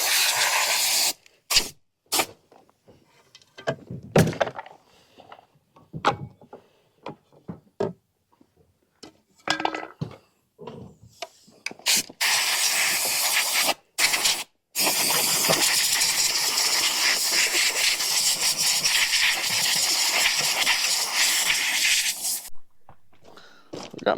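Compressed air blasts through John Deere 7200 planter seed hoppers during cleanout, starting as short scattered bursts and then settling into a long, steady loud hiss that cuts off near the end.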